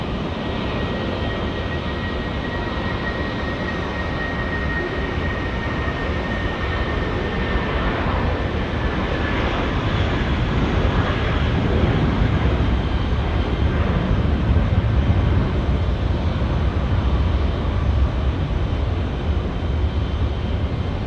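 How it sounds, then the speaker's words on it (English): Air New Zealand A320 in All Blacks livery on runway 23 at Auckland Airport: a continuous, loud jet engine roar that swells slightly toward the middle, with no voices. "the All Blacks A320 now, Queenstown destination of choice, runway 23 rather"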